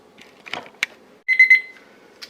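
Kitchen timer going off during home cheddar cheesemaking, a short bright electronic beeping burst in a quiet kitchen, with a few soft clicks and knocks before and after.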